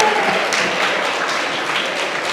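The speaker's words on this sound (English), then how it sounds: "If you are, let me hear you clap." An audience at a gala dinner applauds in a dense, steady burst of many hands clapping, filling the room without voices over it.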